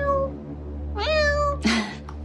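A voice imitates a kitten's meow, giving a couple of drawn-out, high, wavering mews in close succession with no other talk.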